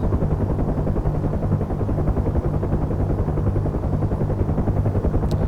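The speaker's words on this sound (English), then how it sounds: "That chopper." Helicopter engine and rotor heard from inside the cabin on a low-level flight from Batumi to Kobuleti, a loud, continuous throbbing drone with steady rapid blade chop filling the whole clip.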